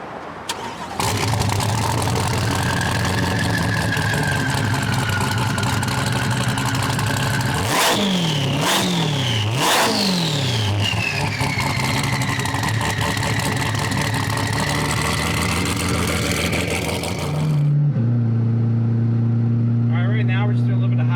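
A 1200-wheel-horsepower Chevrolet Corvette C8 fires up and accelerates hard on the street, its engine howling through three rapid upshifts with rising and falling pitch, then settling into a lower drone before dropping to a steady rumble near the end.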